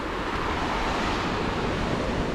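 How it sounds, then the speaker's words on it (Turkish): Moderate-sized ocean waves roar steadily with a dense, continuous wash of breaking water, loud and unbroken, with no voices. "Buranın dalgalar çok yüksek değil. Normal dalgalar."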